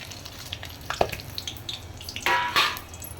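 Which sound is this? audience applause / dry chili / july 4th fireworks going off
dry chili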